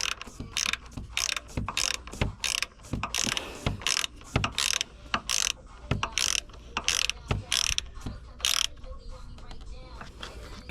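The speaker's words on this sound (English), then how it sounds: "Use a speed wrench, okay?" A speed wrench ratchets in quick bursts of sharp clicking while removing SN-95 Mustang exterior A-pillar trim, close and loud, with brief pauses between runs of turns.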